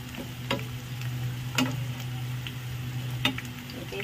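A large onion frying in a pan until browned for dry kheema, a steady low sizzle close by, broken by a few sharp clicks of a utensil against the pan and an underlying hum.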